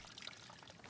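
Water pouring into a sample container while collecting field samples at an old gold mining site, a brief steady splashing trickle heard up close with no talk.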